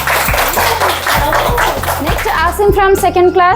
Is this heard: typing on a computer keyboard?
no